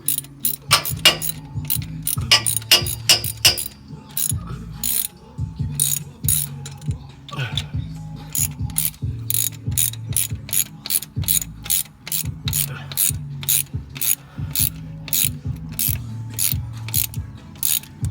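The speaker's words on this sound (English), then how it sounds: "Tighten these down." Hand ratchet clicking in quick bursts while bolts are tightened during an LS7 lifter, LS3 head and TBSS intake install on an LQ4 6.0 engine; repeated close, loud pawl ticks run throughout, with short pauses between strokes.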